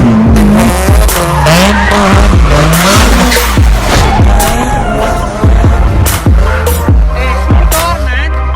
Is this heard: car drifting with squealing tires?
yes